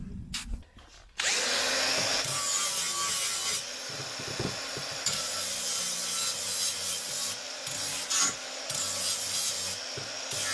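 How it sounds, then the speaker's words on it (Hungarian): A power sander grinds the cut end of a square steel tube for a caravan mini-stove chimney, starting after a few clicks and then running as a loud, steady abrasive whine with small shifts in pitch and pressure. "de most egy kicsit lecsiszoljuk"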